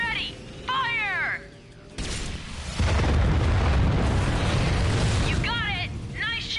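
A heavy ion cannon blast in Ratchet and Clank (PS4) on Batalia booms out and rumbles on for several seconds, with electronic whirring chirps before and after it.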